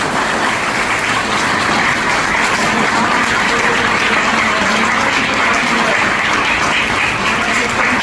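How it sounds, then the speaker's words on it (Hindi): An audience at a school Diwali event gives loud, sustained applause, a dense and even wash of many clapping hands that holds steady for about eight seconds with no talking. "एक बार तेज ताली।"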